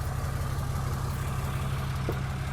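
A 2007 Dodge Ram 2500 SLT Mega Cab pickup engine idling, a steady low rumble with an even, continuous throb, close and alone.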